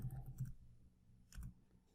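Short clusters of soft keystrokes on a computer keyboard as a chat message is typed to a bot, two brief bursts separated by a pause, quiet and close.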